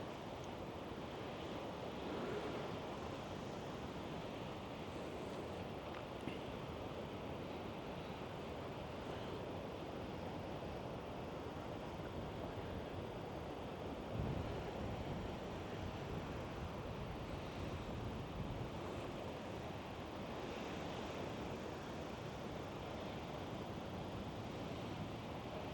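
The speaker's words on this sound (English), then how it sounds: "Nothing but the sound of the sea and the wind." Sea waves wash against the coast while wind rushes past, a steady broad roar with no talking, the surf and gusts blending into one continuous wash at a moderate distance.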